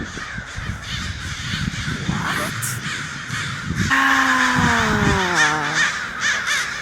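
Many crows caw over and over in a large congregating flock, their harsh calls overlapping and rising and falling, with one brief spoken word partway through.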